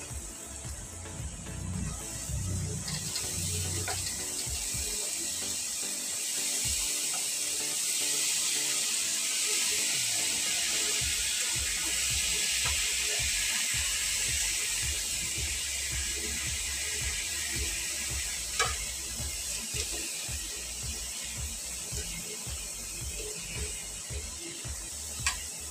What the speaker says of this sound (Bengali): এবার দিব চাল কুমড়ো